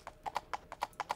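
A horse's hooves clip-clop in The Dark Mod video game, eight crisp, evenly spaced hollow knocks in quick succession, close and clear with nothing else heard.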